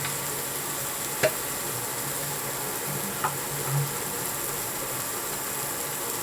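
Paneer is stirred into bharta cooking in a pan: a steady, close sizzle runs throughout, broken by a couple of brief spatula scrapes and clicks.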